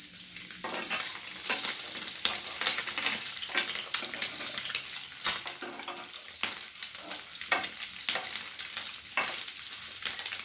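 An egg fries in butter in a pan, giving a steady, close sizzle throughout with scattered sharp clicks and scrapes from stirring or turning.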